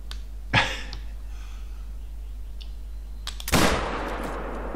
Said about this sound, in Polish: Właśnie o taki strzał mi chodziło.